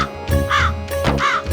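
A crow in a children's Hindi rhyme caws loudly twice, each a harsh, nasal call, over a steady musical backing.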